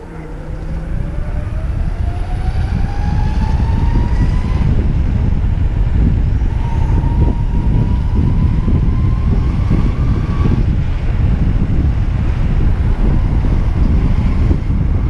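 An electric skateboard speeds up under a Maytech waterproof remote, its motor whine climbing in pitch twice over a constant loud roar of wind and rolling wheels, heard up close while riding.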